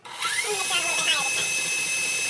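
Electric mixer running at high speed, beating eggs into cookie batter for monster cookie bars; a steady, close whirring whine that climbs in pitch as the speed is raised, with no talking.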